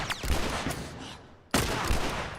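Gunfire from The Last of Us: a rapid volley of shots, a brief lull, then a second loud burst of overlapping gunfire, close and sharp.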